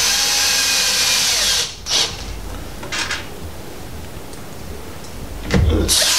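A cordless power drill set to low torque drives screws while a speed controller is replaced on an MGI ZIP Navigator golf trolley. There are several loud whirring bursts, the first long, then short spurts separated by quiet pauses.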